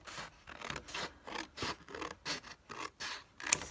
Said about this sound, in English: let's just cut along that line of dots